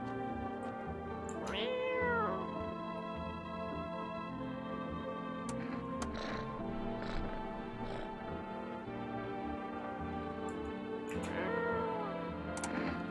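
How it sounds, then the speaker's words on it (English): A cat in the horror video game No I'm Not a Human meows twice, a few seconds apart, over a constant droning, tonal game soundtrack with faint ticking. "Should I feed the cat some food?"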